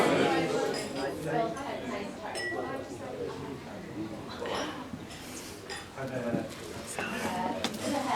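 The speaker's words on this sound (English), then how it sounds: "You lot stop clinking your glasses over at the back." Wedding guests clink glasses during a toast at a reception, with scattered bright chinks and cutlery rattles from the back of the room mixed into steady crowd chatter and a speaker's voice.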